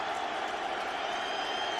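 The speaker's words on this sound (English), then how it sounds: "Here's a big play, and the crowd on its feet," Stadium crowd at an NFL game roars steadily as fans rise to cheer the Indianapolis Colts defense, a dense, continuous wall of cheering and applause with no breaks.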